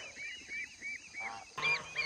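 Free-range ducks raised in a hillside setting call out in a run of nasal, honking quacks, a steady rhythmic series followed by a louder, denser burst near the end, with no talk over them.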